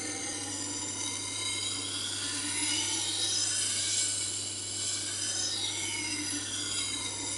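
Knife blade being sharpened on a Tormek T-4 sharpener gives a steady, quiet grinding rasp with slow sweeping shifts in pitch as the blade moves along the wheel, heard alone.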